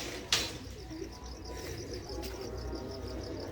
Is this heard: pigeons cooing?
yes